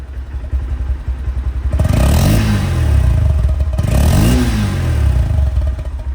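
A 2021 Honda X Blade motorcycle engine idles with a rough, close-up putter, then revs up twice in strong rising surges before dropping back, with some mechanical clatter.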